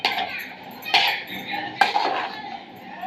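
Chicken fried rice with egg and fried chillies is stirred in a pan, a spatula scraping with three sharp metallic knocks against the pan about a second apart over a soft background hiss.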